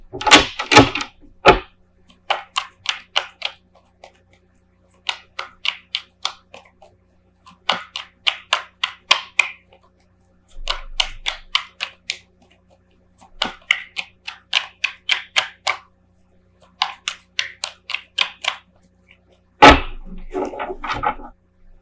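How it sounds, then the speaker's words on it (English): Tarot cards being gathered up for a love reading, a run of quick clustered shuffling and tapping bursts in several groups, close and fairly crisp, with a short voice at the start and end. "Just gather all the cards here."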